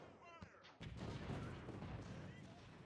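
Enemy artillery fire in Ultimate General Civil War, a dense rumbling barrage of booms and crackling musketry filling the scene, with a faint voice briefly heard at the start.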